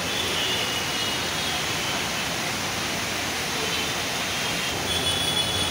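A train at Grand Road railway station in Mumbai during heavy monsoon rain gives a steady, dense rumble and rolling rail noise that holds at an even loudness throughout, with no talking.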